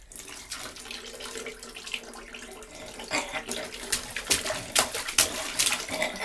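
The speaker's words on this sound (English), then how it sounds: "He's just splashing like mad." A pet splashes water in a bathtub. Running water trickles quietly at first, then sharp splashes burst out in quick, uneven bursts that grow louder toward the end.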